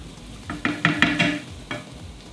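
Onions and flour sizzle in a pan as they are stirred, with a soft frying hiss under a quick run of scraping strokes, then one more stir after a pause.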